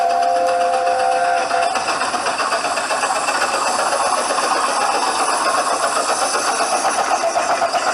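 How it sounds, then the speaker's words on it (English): A Romney Hythe and Dymchurch Railway steam train sounds a brief steady whistle, then its loud, continuous rushing and clattering running noise fills the rest, close and without any voices. "Mown down by the Romney Hythe and Dymchurch Railway."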